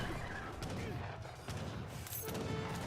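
Heavy cannons fire on skirmisher units during an Age of Empires 3 match, a dense clatter of overlapping gunfire and booms continuing steadily throughout under game noise.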